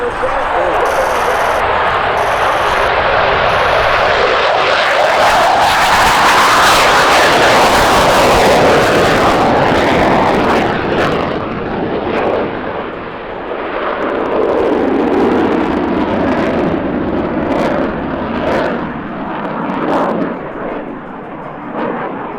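A CF-18 Hornet fighter jet taking off at an air show, a loud roaring engine thunder that swells and sweeps past, then fades into a lingering rumble while a commentator talks over it.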